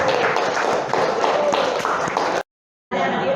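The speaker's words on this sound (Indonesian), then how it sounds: "Ya, tepuk tangannya untuk Mas Kuku." A classroom audience claps for the winner, a dense patter of hands under a voice, then a sudden silence before the clapping starts again.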